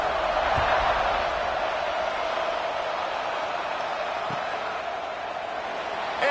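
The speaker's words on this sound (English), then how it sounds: "this crowd is buzzing after that last score" A stadium crowd at a college football game sends up a broad, distant buzz of many voices, a steady wash of noise with a faint thump or two, easing slightly toward the end.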